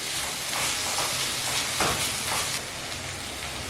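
Ginger and garlic sizzling in a pan as they are stirred for a dhaba-style bhindi masala, a loud, continuous hissing fry with slight surges, close and without talk.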